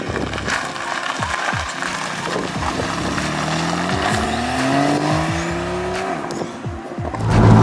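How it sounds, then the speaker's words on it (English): A Porsche 991.2 Carrera S flat-six revs and pulls hard, its rising engine note sweeping upward through gears with faint turbo whistle, punctuated by clicks and thumps, then a loud swelling roar at the end. "You've still got that lovely flat 6 tone, which just unbeatable."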